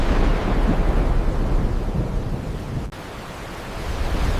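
Endless thunderstorm with heavy rain and wind, a broad continuous roar that rumbles loudly, briefly drops out near the end, then swells again, with no voices.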